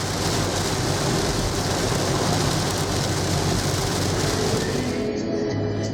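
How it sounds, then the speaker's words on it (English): Rain patters steadily on a vehicle as it drives, a dense wash of droplets mixed with road and engine rumble throughout. "It's raining a bit."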